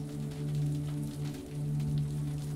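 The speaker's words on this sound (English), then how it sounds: "as rain continues to fall" Rain falling in a steady soft patter, a faint continuous wash of drops under a low humming drone, calm and even throughout.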